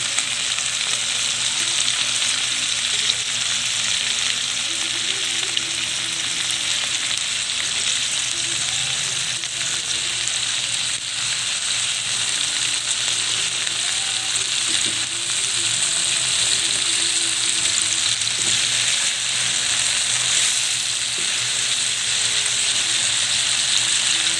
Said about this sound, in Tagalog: Haluin lang natin guys, haluin.